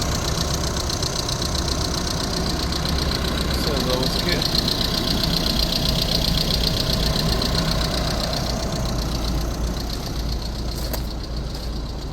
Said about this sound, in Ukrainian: Двигунчик працює ідеально.